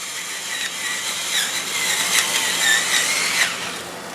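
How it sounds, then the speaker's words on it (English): Pepper grinder cranking pepper over a pan while cooking, a faint steady gritty grinding with small squeaky ratcheting, close and alone. "I just love my pepper grinder."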